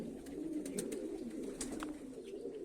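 A Black Diamond pigeon gives a soft, low, throaty coo that rolls on steadily for a moment, faint and close.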